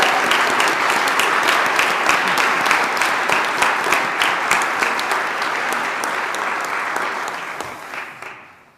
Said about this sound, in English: Let's give our award winners another round of applause.